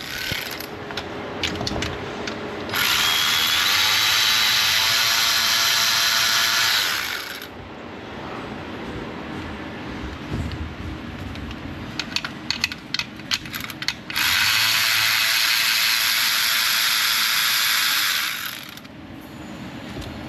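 A ratchet loosens timing cover bolts on a Jeep Wrangler 3.6, two long bursts of rapid, bright clicking separated by quieter handling and clinks of tools close by, with no talk.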